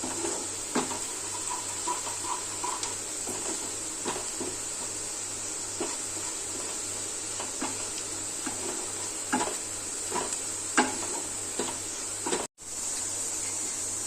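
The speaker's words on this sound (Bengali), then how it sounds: "পেঁয়াজ আর রসুনটা দেখুন আমার ভাজা হয়ে গেছে" Onion and garlic frying in about two tablespoons of oil for palak paneer, a steady soft sizzle with scattered crackles and pops running continuously, close and moderate in level, with no talking.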